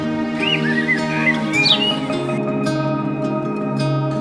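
A bird chirps and tweets several times in quick succession early on, clear and close, over a steady musical background that carries on after the calls stop.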